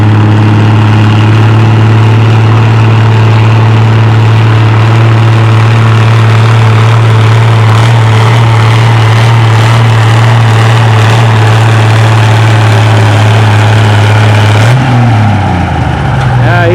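A Farmall H tractor pulling at a spring tractor pull in the 4000 to 4250 lb classes, its engine droning loud and steady at a constant pitch, then the note sliding up and down near the end as the clutch goes in. A commentator talks over it.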